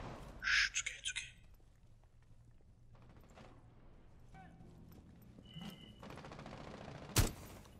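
Gunfire in the tactical shooter Rainbow Six Siege: a cluster of sharp shots early on, scattered quieter game noise, then one loud crack near the end, with players talking over it.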